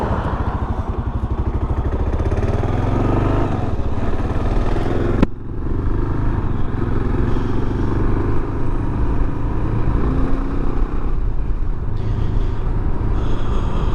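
A 2022 Kawasaki KLR650 on the move gives a steady, loud single-cylinder engine drone with rushing wind, constant throughout and briefly dipping around the middle.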